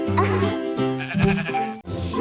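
Loud, close sheep bleats, several wavering calls in quick succession, sounding clear and alone in the foreground.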